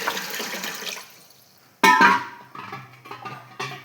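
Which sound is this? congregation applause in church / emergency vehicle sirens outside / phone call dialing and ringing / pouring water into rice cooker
pouring water into rice cooker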